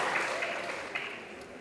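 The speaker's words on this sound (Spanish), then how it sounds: "Los despedimos con un fuerte aplauso nuevamente" An audience at an international circular economy forum applauds the departing vice minister, a brief, moderately loud patter of many hands that fades slightly toward the end.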